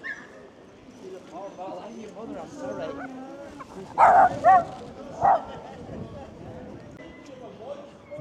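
A dog in a Scarborough pub lets out a few sharp yapping barks in quick succession midway, close by, amid people talking and general bar chatter.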